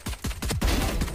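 Rapid bursts of gunfire from the tactical shooter VALORANT, with pistol shots landing a headshot: a dense, loud string of sharp cracks fired in quick succession, with no voices over them.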